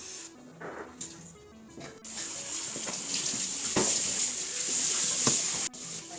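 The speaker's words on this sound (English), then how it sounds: "Now I'm putting the noodles in the water." Noodles tipped into a pot of water in a home kitchen for macaroni and cheese, with a steady, close rush of running water, a brief splash and clatter near the start, and continuous pouring and splashing throughout.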